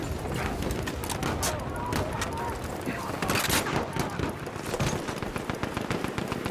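Machine gun fire in the World War I shooter Battlefield 1, rapid dense bursts of gunshots crackling continuously over a noisy battlefield, with voices shouting amid the firing.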